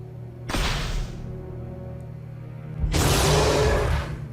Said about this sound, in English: That sound is a little bit intense for being poisoned